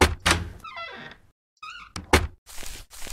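A Home Decor mod door opening in the game Minetest with a solid thunk followed by a sliding, squeaky swing, then further knocks and clunks, loud and close with no voices.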